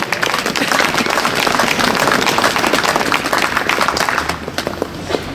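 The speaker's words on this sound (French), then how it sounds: "Je propose de les applaudir." A crowd gathered for a commemorative plaque inauguration in Geneva applauds honorees, loud, dense clapping running nearly the whole time before thinning slightly toward the end.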